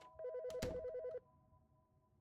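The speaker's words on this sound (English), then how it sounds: "Phone's ringing, so..." A telephone rings in a short electronic trill burst lasting about a second, fairly close and clear, then stops, leaving only a quiet room hum.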